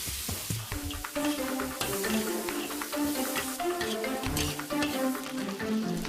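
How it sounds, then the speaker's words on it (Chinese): Cured pork and dried radish stir-fry in a wok in Miao home cooking, with busy sizzling and repeated scraping and tossing of a spatula, loud and close, with no voices. "将腊肉和萝卜干一起炒"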